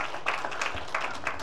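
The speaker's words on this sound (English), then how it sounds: "Go ahead and give Pastor A a hand clap." Church congregation giving a round of hand-clap applause, a steady patter of many hands at moderate level with small surges, no voices over it.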